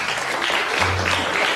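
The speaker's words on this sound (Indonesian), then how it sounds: "berikan tepuk tangan dong buat Ananta" Audience applause for Ananta, a steady wash of many clapping hands, loud and even throughout with a low hum underneath.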